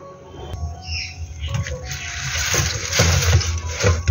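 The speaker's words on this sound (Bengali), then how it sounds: "এখন আগে শিকড়টা বাদ দিই, তারপর ভালো করে এটাকে ধোবো" Spinach leaves being rinsed and swished in water, a steady running and splashing wash that swells louder partway through, with faint bird chirps in the background.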